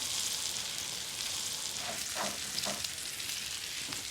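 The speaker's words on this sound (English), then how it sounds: "Olive oil goes back into the pan, potatoes in." Potatoes sizzle steadily in olive oil in a pan, a dense hiss with a few soft clinks of stirring partway through.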